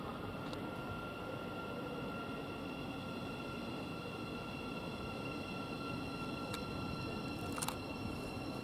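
A Thameslink Class 700 train, unit 700-018, bound for Luton, produces a steady, moderately distant rumble and hum at West Hampstead Thameslink station, with a few brief clicks near the end.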